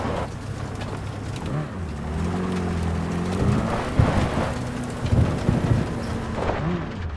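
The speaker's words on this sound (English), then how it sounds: "That is one hell of a storm!" A heavy rainstorm with rumbling thunder in Cyberpunk 2077 keeps up a dense, steady hiss of rain with low rolling booms and a few sharper cracks, while a faint low tonal hum drifts underneath.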